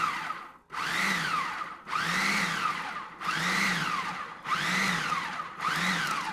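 A blender pulses pimento cheese ingredients in five loud, close bursts of about a second each. Each burst has a rising and falling motor whine, with short pauses between them.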